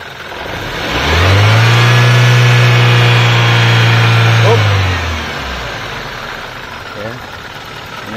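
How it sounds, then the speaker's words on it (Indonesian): A 2001 Toyota Corolla SEG engine idles and then revs up loud and close, holding a steady high pitch for a few seconds before dropping back to idle. "Kita coba dengar suara mesinnya. Oke, Pak, engine on, Pak. Oke. Digas, Pak."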